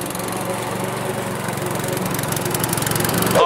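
A lawn mower cuts grass nearby, its engine droning loudly with a steady pulsing rhythm that builds slightly toward the end, with no one talking.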